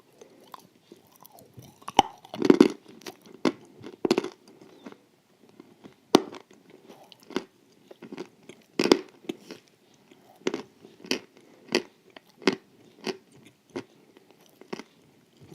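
Crunchy raspberry halva dessert being bitten and chewed up close, with a steady series of sharp crunches and chewing sounds separated by brief pauses.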